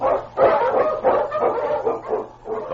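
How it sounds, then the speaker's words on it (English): Eskimo sled dogs on a snowy Yukon trail give a run of loud, repeated barks and yips, close and continuous in an old radio-drama recording. "The Wonder Dog King, swiftest and strongest of Eskimo lead dogs, blazes the trail through storm and snow for Sergeant Preston"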